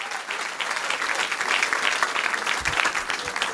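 A church congregation applauding, a sustained crackle of many hands clapping together, steady and fairly loud throughout, with no voices rising above it.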